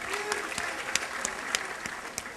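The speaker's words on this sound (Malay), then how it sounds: "Kita beri tepukan pada orang yang sampai awal" Applause from a gathered audience at a 2013 New Year's Eve religious evening gathering, steady clapping with a few louder claps standing out, fairly near, with faint voices mixed in.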